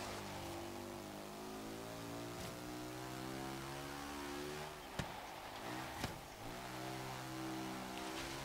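A 2014 Morgan 3 Wheeler fitted with a motorbike inline-4 engine revs hard in Forza Horizon 3 autocross, a steady high buzzing drone with rising and falling pitch sweeps and a couple of sharp shifts.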